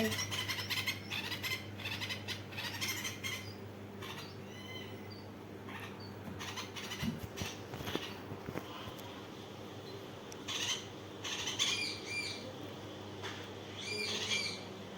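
Bulbul chicks call in a village setting, giving repeated thin squeaky chirps in short bursts, some close and some fainter, over a steady low hum, with no talk.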